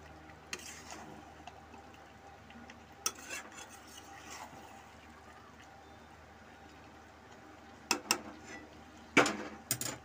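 Meat curry with potatoes being stirred in a pot after leftover spice-washing water is added: quiet, sparse scrapes and knocks of a spoon against the vessel, with a few louder clatters near the end.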